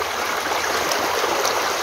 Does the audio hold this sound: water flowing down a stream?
yes